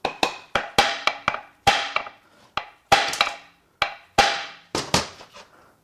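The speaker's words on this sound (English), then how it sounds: "I guess we can just keep hitting it with a hammer" A hammer strikes the aluminum housing of a junk Subaru TR580 CVT in about eighteen sharp, ringing blows, irregularly spaced and loud, each hit ending in a short metallic decay.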